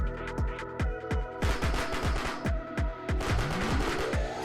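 Gunfire from a shooting weapon in an Unreal Engine game test: a fast, steady string of sharp, loud shots, joined near the end by a rising whine.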